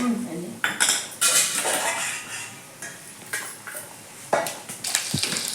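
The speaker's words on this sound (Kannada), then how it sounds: "ಈಗ ಬೆಳ್ಳುಳ್ಳಿ ಜೀರಿ ಸಾಸಿನ ಹಾಕಿದೆ" Garlic, cumin and mustard seeds frying in hot oil in a pan while cooking upittu and ragi mudde, heard as bursts of crackle and spatter with utensil clinks and scraping, fairly close and loud throughout.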